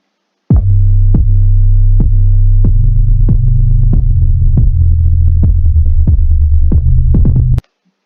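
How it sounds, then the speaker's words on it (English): A deep, sustained 808 bass in a hip-hop beat built in Caustic 3. It booms loud with long tails, restarting every second or so on the beat under a sharp, steady percussive tick. "So then I put an 808."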